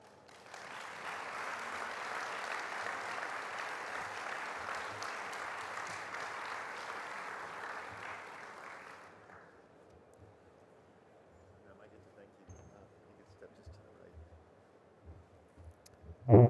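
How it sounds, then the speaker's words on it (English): A conference audience gives sustained applause after a military keynote address, a dense even clapping for about nine seconds that then fades into quiet room sounds, with a brief loud thump at the very end. "I think maybe another round of applause for General Lenderman."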